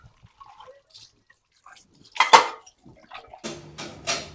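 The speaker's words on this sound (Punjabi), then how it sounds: "ਹੁਣ ਤੱਕ ਭਾਂਡੇ ਹੀ ਚੱਕੀ ਜਾਨੀ ਆ ਸਵੇਰ ਦੀ" Dishes and steel pots clinking and clattering near a sink with dripping and splashing water, in sparse bursts with quiet gaps and a louder cluster of knocks toward the middle.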